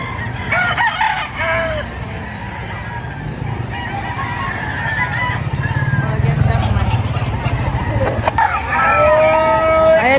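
Roosters crow repeatedly amid clucking chickens at a busy poultry market in Padre Garcia, Batangas, with several birds calling near and far over a steady crowd murmur and occasional voices.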